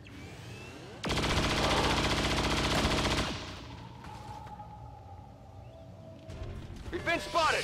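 A loud, sustained burst of rapid booming cannon fire in the video game XCOM 2 rumbles for a couple of seconds, followed by a quieter hum and brief gunfire noise.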